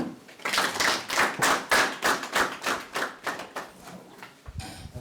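An audience at a community meeting on unity and reconciliation claps, with a burst of loud, uneven applause that swells and fades in waves over about four seconds, then stops abruptly.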